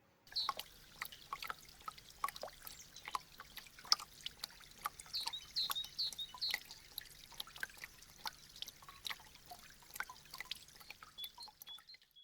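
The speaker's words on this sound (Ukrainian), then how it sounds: "Капають бурульки." Water drips irregularly onto a hard surface, many small close drips falling at an uneven pace in an otherwise quiet space, like icicles melting.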